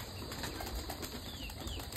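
Faint fluttering of pigeon wings, several quick flaps from birds nearby, over a quiet outdoor background.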